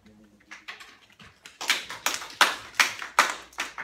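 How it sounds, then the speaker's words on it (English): Polite light golf clap from a science class, a handful of soft claps starting sparse and then settling into a steady even rhythm, close and fairly quiet. "thank you for the golf clap"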